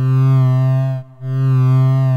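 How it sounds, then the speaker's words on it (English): A loud, steady synth tone from a 1010music Blackbox that briefly cuts out near the middle and swells back in, its pitch wobbling slightly from an LFO. "it's sort of sounding like a synth with a little bit of a wobble"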